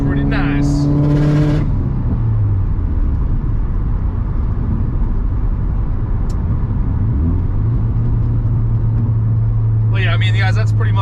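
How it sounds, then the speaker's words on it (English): A Subaru WRX STI S209 running on E85 with a slipping clutch accelerates from inside the cabin as a loud, steady engine roar. The pitch drops and climbs again, and a voice talks briefly near the start and the end. "That clutch is slipping pretty nice."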